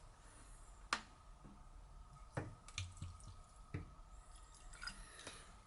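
White vinegar pours into a container alongside cut steel wool, heard as quiet splashing and dripping with a few sharper clinks and trickles, close and faint with no talking.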